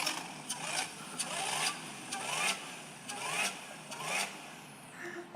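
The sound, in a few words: supercharged car engine revving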